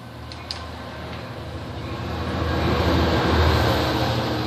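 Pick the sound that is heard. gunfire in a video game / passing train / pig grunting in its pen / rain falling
passing train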